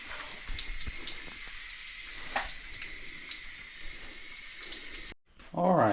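Water runs from the tap of a utility sink after the plumbing is redone, a steady hiss with a high hum, then stops and gives way to a different sharper gurgle at the end.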